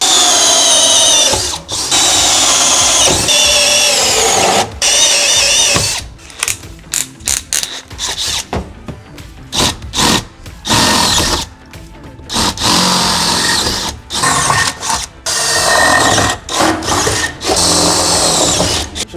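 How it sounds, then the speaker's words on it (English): A power drill bores holes into the metal body of a RAM ProMaster van during a cabinet locker install, with loud bursts of whirring and grinding broken by short pauses and ratcheting clicks, close up. "So now that we have our holes drilled, we're gonna be putting in our plus nuts."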